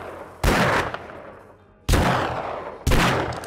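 Three loud, close gunshots fire from a gun in the zombie survival game 7 Days to Die, unevenly spaced, each a heavy blast with a drawn-out booming tail.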